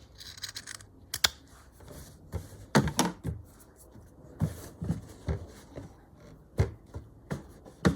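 Scissors snipping through fabric scraps for bunting flags on a cluttered sewing table, a series of close, crisp cuts at an uneven pace with rustling cloth between them.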